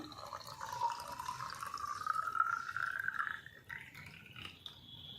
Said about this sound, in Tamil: நான் உங்களுக்கு ஊற்றி காட்டுறேன் பாருங்கள்